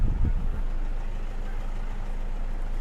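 A 2005 Toyota Vigo 4WD pickup with a manual gearbox idles, giving a low steady engine rumble that runs evenly from start to finish after a brief louder knock at the outset.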